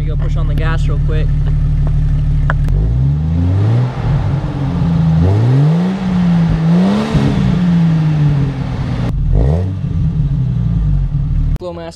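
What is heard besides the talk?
Jeep engine revving through exhaust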